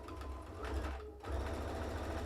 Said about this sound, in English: You are going to stitch this seam allowance towards the hat.